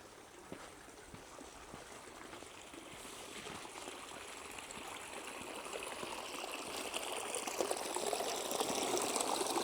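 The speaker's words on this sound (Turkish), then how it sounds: "Öyle gölete doğru akan küçük su akıntıları da mevcut burada ve şırıl şırıl akıyor." A small stream in a national park flows toward a pond, a steady soft trickle and gush that swells slightly louder over time, with no voices.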